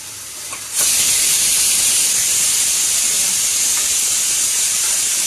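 Fresh spinach hits a hot pan and erupts into a sudden, loud, steady sizzling hiss that holds on without letting up.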